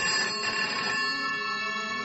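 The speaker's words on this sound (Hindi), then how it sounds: "आनंद का फोन बजा।" A telephone ringing as a sound effect in a radio drama, a bright electronic ring with steady tonal harmonics, clear and fairly close, heard alone without speech.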